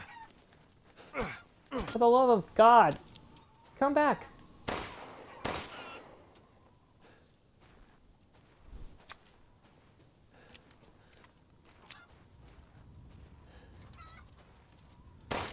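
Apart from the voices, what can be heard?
chickens clucking in video game Resident Evil Village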